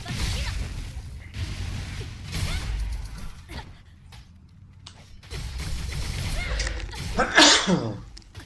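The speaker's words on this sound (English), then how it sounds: "Huge sneeze. Huge sneeze." One huge sneeze erupts near the end, a sharp, loud burst over game sounds, swishes and clatter from an online fantasy role-playing grind session, with some talking nearby.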